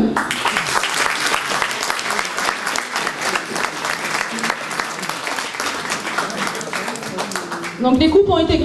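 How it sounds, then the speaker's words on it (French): A crowd at a Yoseikan Budo martial arts competition in Saint-Cannat applauds the podium winners, with dense sustained clapping throughout and a few voices over it near the end. "Oui, voilà, on peut applaudir le podium."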